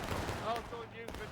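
Musket volleys crackle in the War of Rights video game, dense overlapping gunfire from a line of shooters with a few sharper cracks, heard under shouted voices.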